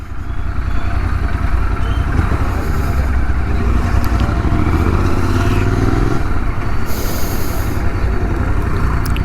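A Royal Enfield GT 650 motorcycle engine rumbles loud and steady during a ride, its deep continuous drone mixed with wind buffeting and no speech over it.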